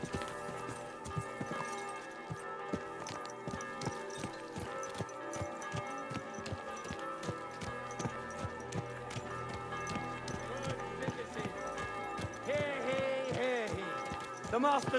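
Horse hooves clip-clop steadily in the video game Kingdom Come: Deliverance 2, set against a layered musical background with tonal game sounds throughout and a few pitch-sliding tones near the end.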